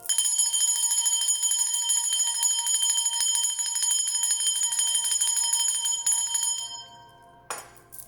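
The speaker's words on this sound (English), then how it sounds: "I'm going to ring the bell again." A bell rings out loud and sustained, its bright tone holding steady for about seven seconds before fading, followed by a brief softer strike near the end.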